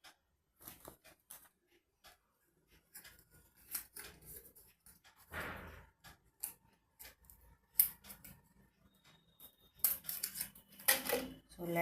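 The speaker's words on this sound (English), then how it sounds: "So let's do the cutting" Scissors snip through a sheet of paper in short, close, crisp cuts, with a few pauses between bursts of snipping and a voice speaking now and then.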